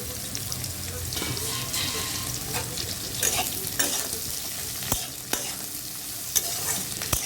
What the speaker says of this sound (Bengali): কালো গিরে ফোড়ন দিয়ে এবার দিয়ে দেবো ঝিঙেগুলো চিনিগুলো দিয়ে দিলাম